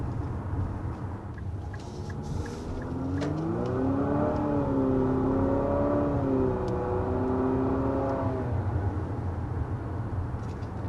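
A 2023 Infiniti QX55 SUV accelerating hard, the engine drone climbing steadily in pitch with a couple of gear-change dips, heard from inside over road and wind rumble.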